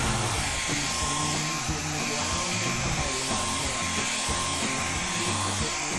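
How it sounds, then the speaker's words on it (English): A hair dryer blows in a steady, loud, continuous whoosh with a motor hum for the whole stretch, close by, and no talk. "I gotta blow dry one more time"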